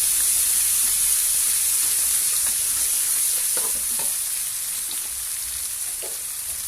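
Garlic and pork fry in hot cooking oil in a wok, a close continuous hiss with light scraping and clacking from stirring that eases slightly toward the end, no voices.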